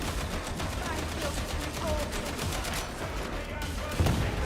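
Sustained automatic gunfire in the Warhammer 40,000 game Darktide, a dense continuous stream of shots unloaded into an enemy at close range, with a heavier impact near the end amid busy game noise.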